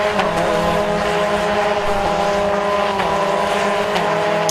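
A race car at a BRSCC meeting on the Anglesey circuit makes a loud, constant, close engine drone with a steady pitch and no break.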